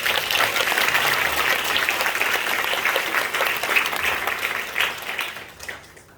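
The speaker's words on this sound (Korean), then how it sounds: "우리 여러분들도 축하 박수 한번 해주시죠" A church congregation applauds in congratulation during a 50th-anniversary ordination thanksgiving service, with dense, steady clapping filling the hall before it thins and fades at the end.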